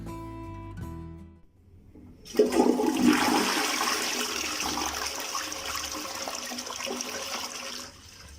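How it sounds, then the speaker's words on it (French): Water is gently poured out of a bag holding new aquarium fish, a soft steady splashing and trickling that starts after a few seconds of quiet and runs on fairly faint until it stops near the end. "prendre votre sac, qui est ici, et d'aller gentiment, je dis bien gentiment, aller verser votre eau"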